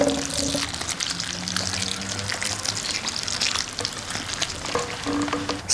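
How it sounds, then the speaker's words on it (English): Hot milk and cream, just off the boil, are poured into a pan holding a raisin dessert. A steady, close sizzle and liquid hiss runs throughout with no talking. "Just pour it all into the pan."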